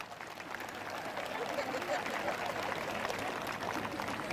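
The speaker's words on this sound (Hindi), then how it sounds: "खाली बातें करने वाले जो लोग हैं वो ताली बजाकर धन्यवाद कर रहे हैं।" Sustained clapping from a church congregation at a prophet's ministry service in Chandigarh, a steady dense wash of many hands throughout with crowd noise underneath.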